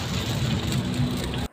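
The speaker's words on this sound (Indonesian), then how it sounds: "Ya hujan. Semoga hujan ini membawa berkah." Rain falls at an outdoor Muslim festival at ICE BSD, a dense, loud, steady hiss of drops that cuts off abruptly near the end.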